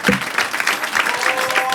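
Comedy club crowd in Burbank clapping for themselves, a steady wash of close applause with a few sharper claps, lasting under two seconds without speech.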